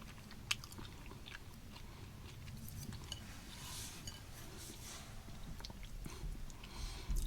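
Someone chews beans from an MRE minestrone, with soft, close mouth sounds and a few crisp bites and clicks over a faint, quiet background.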